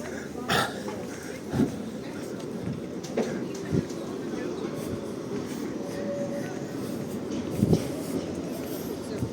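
A Lviv tram rumbles past with a steady low drone and periodic rail clunks, fairly close, with a few faint thumps over the continuous rolling noise.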